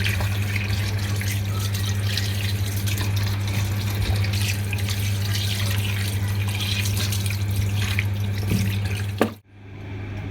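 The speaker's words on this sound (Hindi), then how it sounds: "15 से 20 मिनट के बाद हम इसे अच्छे से वॉश कर लेंगे।" Sea catfish pieces washed under running water for a fish curry, a loud continuous gush of tap water that cuts off abruptly near the end.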